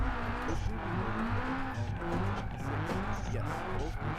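A car drifts in the BeamNG video game, held in third gear, its engine droning steadily under squealing, skidding tires across the whole stretch, with a voice faintly present beneath.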